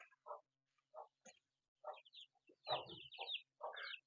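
Chickens cluck and chatter in short, irregular bursts at close range, with a few higher-pitched cheeps from smaller birds mixed in, all without any talking.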